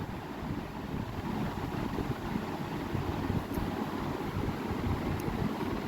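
Water poured into a light fish curry of bhola fish with potato and green banana after the masala is fried, a steady, even rushing wash that holds for about six seconds.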